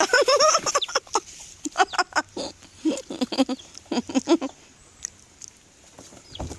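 A bird freed from a plastic bag clucks and squawks in a quick, loud burst close by, followed by scattered softer clucks, with people talking around it.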